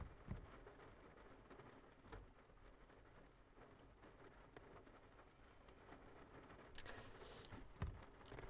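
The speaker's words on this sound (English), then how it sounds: "You guys can just listen to the rain right now." Rain falls as a faint, steady patter and hiss, with a few soft thuds and louder bursts near the end, and no talking.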